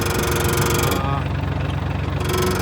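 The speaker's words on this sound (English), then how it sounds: "Let that idle for a second." An engine idles steadily at a drilling site, a loud, close, continuous rumble with regular pulsing throughout.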